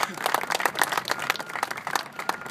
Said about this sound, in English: Ladies and gentlemen, please applaud them.